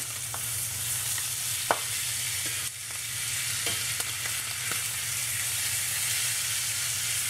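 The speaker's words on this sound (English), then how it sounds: "we're going to go ahead and flip these steaks one more time, then they should be done" Steaks frying in a hot pan give a steady, close sizzle throughout, with a few sharp clicks and scrapes as they are turned over, and no talking.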